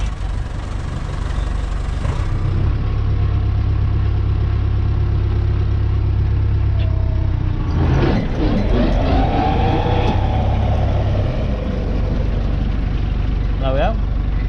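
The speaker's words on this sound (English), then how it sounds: "we're just going to put the PTO on and just spin it so all the blades are loose" A tractor idles steadily, then its PTO is engaged to spin the blades of a Kuhn FC 300G mower. A rising mechanical whine and rattle swell midway over the constant low engine drone.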